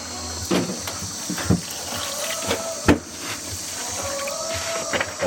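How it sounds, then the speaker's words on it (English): Water runs steadily into a container with a continuous rushing hiss, interrupted by a few soft knocks and thuds. "You just fill it up with water."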